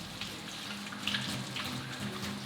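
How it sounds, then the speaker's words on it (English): Running water from a sink tap as hands are washed, a steady close splashing hiss with small bursts of handling, on a plumbing job. "Now we can wash our hands."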